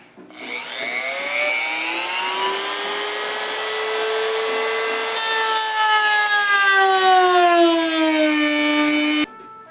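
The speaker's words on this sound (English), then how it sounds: "I'm going to use a Dremel tool to cut it." A Dremel rotary tool cuts through a throttle cable with a loud, sustained whine whose pitch sags and rises, lasting about nine seconds before cutting off abruptly.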